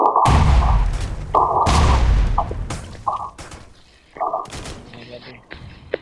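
Bursts of loud gunfire and booming blasts come in several rapid volleys, with short pauses between them and fainter shots trailing off.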